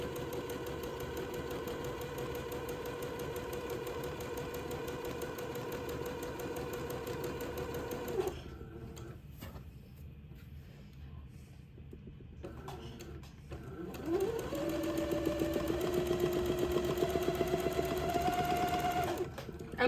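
A sewing machine stitches a narrow French seam on a little white dress, running steadily for several seconds, pausing briefly, then humming again at a higher, even speed, close and loud.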